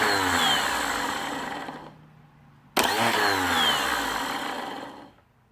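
Jet ski electric starter motor powered through its solenoid, whirring up loud then winding down, followed by a sharp click and a second spin-up that whines steadily before cutting off.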